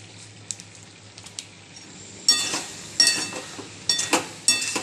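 A spoon stirs vegetable curry of Malabar spinach with Maggi masala in a pan, making soft scraping and clinking strokes that grow louder halfway through and recur in bursts over a faint sizzle, with no talking.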